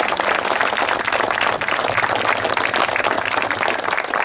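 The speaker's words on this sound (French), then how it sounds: "on peut l'applaudir." A crowd at a ceremony commemorating the 18 June 1940 appeal applauds a student contest winner, steady dense clapping that carries on without a break for several seconds with no talk over it.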